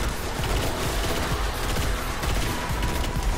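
Dense, continuous gunfire from a Destiny: The Taken King boss fight, rapid overlapping shots and booms forming a steady loud barrage for the whole stretch with no voices.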